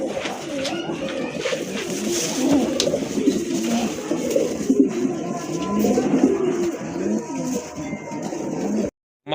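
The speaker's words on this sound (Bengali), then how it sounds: "ইন্ডিয়ান কাশ্মীরি লোটন কবুতর" A pair of Indian Kashmiri Lotan pigeons coo close by in a steady stream of soft, throaty, overlapping calls, ending in a sudden cut to silence.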